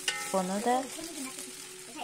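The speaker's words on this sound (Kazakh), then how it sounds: "10 минуттың көлемінде қуырып аласыздар" Sliced potatoes fry in a pan with a soft, continuous sizzle beneath a voice speaking close by.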